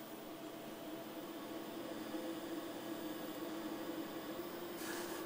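Steady whir of a Kore oven's fan and heating as an apple puff pastry tart bakes, an even broadband hum with a low tonal drone, close and continuous with no talking.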